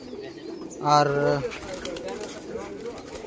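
A pigeon gives one clear, close coo while the flock eats corn set out to dry, and a voice and quieter background sounds follow it.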